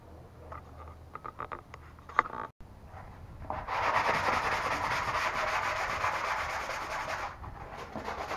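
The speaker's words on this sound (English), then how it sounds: "Sand them down a little bit" Wooden desk shelf parts being sanded by hand, a steady close rasping rub that starts after a few bumps and taps and continues evenly to the end.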